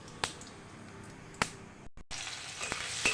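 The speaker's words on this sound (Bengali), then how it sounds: "এই তেলের মধ্যেই দিয়ে দিচ্ছি সাদা জিরে সম্বার" White cumin seeds dropped into hot frying oil left after frying fish and potatoes, a low crackling sizzle with a few sharp clicks and spatula scrapes, building slightly louder toward the end.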